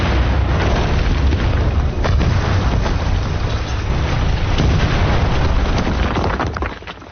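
A heavy, rumbling laboratory explosion in a film fills the scene with a dense, continuous low roar and crackling debris that holds steady for several seconds before fading.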